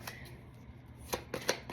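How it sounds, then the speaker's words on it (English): Tarot cards are shuffled by hand in a quiet room, a few quick riffling bursts and soft slaps arriving close together near the microphone. "I shuffle a few times and cards quit coming out."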